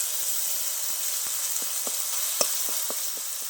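Tomato with ginger and chili paste fries in a pan, a steady close sizzle broken by soft pops and scraping stirs.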